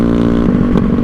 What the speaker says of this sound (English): a dump off pipe on your exhaust is extremely loud